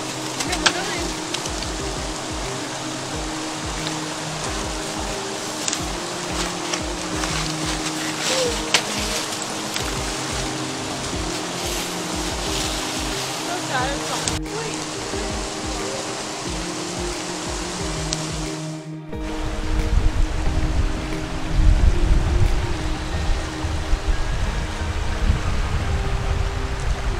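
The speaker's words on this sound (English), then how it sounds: "So we found a little waterfall." A small waterfall at Ricketts Glen rushes in a steady broadband roar, with people talking faintly over it and the splash growing louder and closer toward the end.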